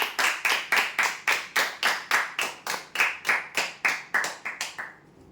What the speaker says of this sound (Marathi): जोरदार टाळ्या होण्यासाठी